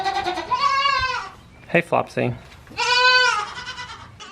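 Goats bleat twice on a farm, a long wavering cry near the start and another toward the end, with a person speaking briefly between the calls.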